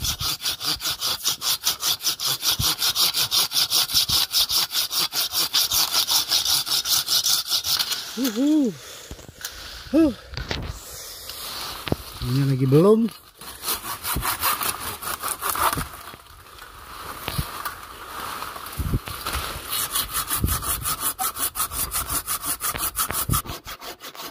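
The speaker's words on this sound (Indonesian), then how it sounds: "saya pakai gergaji pemotong ya," Rapid, rhythmic back-and-forth strokes of a hand pruning saw cutting through a branch of a nutmeg tree, continuing steadily with a brief pause where a voice speaks.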